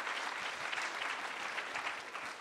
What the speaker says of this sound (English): asking everybody to give a warm applause to our distinguished panel